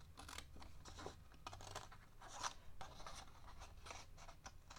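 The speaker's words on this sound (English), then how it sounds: "You're going to cut this piece out." Scissors cut through a piece of card for a four-panel card, a close, quiet run of crisp snips and scratchy rasps with no voice over them.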